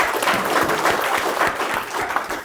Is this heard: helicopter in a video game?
no